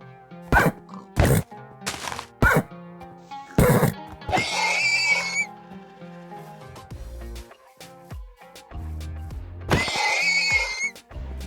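A horse in the Minecraft video game neighs in long, loud whinnies, heard twice amid sharp percussive game hits and a low sustained background tone.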